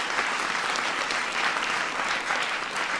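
A crowded White House Science Fair audience applauds the science advisor, a dense, steady wash of clapping that holds at even loudness for about three seconds, with no voice over it.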